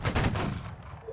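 A massed musket volley fired by a formed line of French guards in Holdfast: Nations At War, a loud, dense booming burst in the opening half second that rolls off into a long, noisy fading tail.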